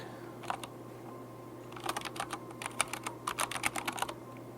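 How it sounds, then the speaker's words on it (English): Typing on a computer keyboard: a couple of early key taps, then a quick, irregular run of close clicks, over a faint steady hum. "So I'm gonna just type that one in."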